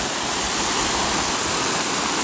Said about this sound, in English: Almost forgot to water the carrots.